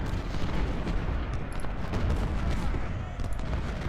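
Rifle gunfire in the Ultimate General: Civil War video game crackles as a dense, continuous fusillade of overlapping shots and low booms, loud and sustained throughout.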